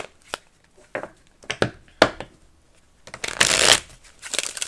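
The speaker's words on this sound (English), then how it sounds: "I'm going to shuffle it one more time." Deck of cards being shuffled close up: several quick riffled bursts, then a longer cascading riffle and bridge near the end, crisp and moderately loud, with no voice over it.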